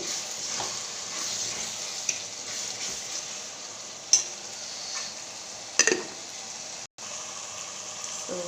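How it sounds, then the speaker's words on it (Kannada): Tomato gojju seasoned with sambar powder frying in a pan, a steady hiss with occasional sharper clinks of a spoon stirring against the pan, close and continuous with no talking. "ನೋಡಿ ಚೆನ್ನಾಗಿ ಫ್ರೈ ಆಗ್ತದೆ."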